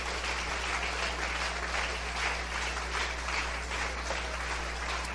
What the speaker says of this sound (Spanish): Den ese aplauso fuerte esta mañana a Él.